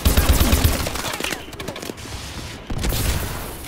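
Ohm gun from Call of Duty: Advanced Warfare firing in an online match: loud, rapid continuous bursts of gunfire with a short lull midway before the shooting resumes.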